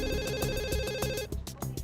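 Telephone ringing in a salon, a steady electronic ringtone warbling clearly for over a second before cutting off, followed by faint clicks and background noise.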